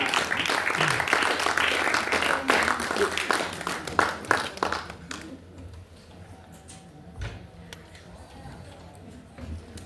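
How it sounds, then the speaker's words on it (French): An audience at a Lorca poetry evening in Paris applauds warmly, a dense patter of claps that fades out over several seconds, leaving a few stray claps and a voice speaking. "On l'applaudit très fort."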